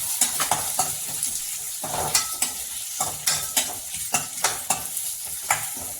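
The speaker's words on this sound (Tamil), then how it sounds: "கருவேப்பிலை, வெங்காயம், பச்சை மிளகாய் 3ஐயும் சேர்த்து வதக்கலாம்." Steady sizzling of onion, curry leaves and green chili frying in hot oil, with repeated scraping and stirring strokes from a utensil in the pan, close and fairly loud.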